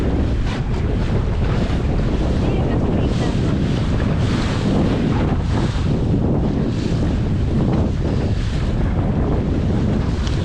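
Strong wind buffeting the microphone with waves and surf slapping around a Laguna-Kombi+ sailing dinghy out on a bay, a loud, continuous rushing roar that persists throughout.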